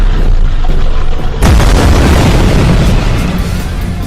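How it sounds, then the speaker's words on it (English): A heavy spaceship weapon blast from a Space Quest game erupts in a loud, booming explosion that rolls on with a sustained rumbling roar. "Mr. Tukok, they are preparing to fire."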